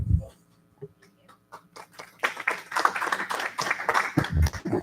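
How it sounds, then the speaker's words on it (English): After a few scattered, sparse claps, applause at a board of education meeting swells into a fuller burst of clapping from a modest gathering, fairly soft and roomy, continuing to the end. "Applause."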